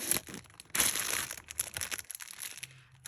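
A pink plastic bag full of rosettes is handled up close, giving quiet irregular crinkles and rustles in short bursts, with no talking.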